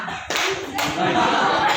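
Group of students clapping together in a classroom clap game, a dense burst of claps starting sharply and then continuing with a steady clatter, close and loud in the room.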